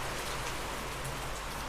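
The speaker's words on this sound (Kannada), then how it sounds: "ಹಿಂಗಾಗಿ ಮಳೆ ಫುಲ್ ಜೋರು ಐತಿ" Heavy morning rain pours down steadily, a dense, even hiss of drops on surfaces with no pauses and no talking.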